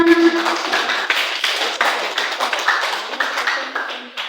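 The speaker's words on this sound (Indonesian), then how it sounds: "tepuk tangan bagi mereka semua" A classroom audience claps after group presentations, close and fairly loud with individual claps audible in a quick uneven rhythm that thins out toward the end.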